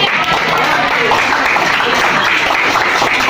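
A classroom of students clapping in set counted patterns, a steady loud wash of hand claps filling the room with no pauses.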